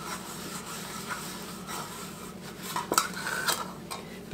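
A metal muffin pan is greased by hand with Crisco in a kitchen, producing quiet rubbing and scraping with a few light metallic clinks and taps near the end.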